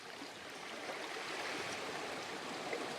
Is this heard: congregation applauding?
no